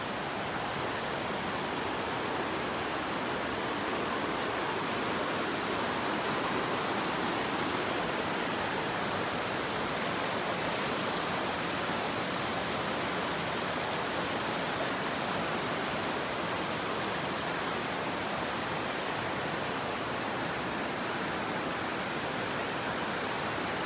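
A river rushes beneath a bridge on a hiking trail, giving a steady, dense roar of flowing water that stays constant throughout with no voices.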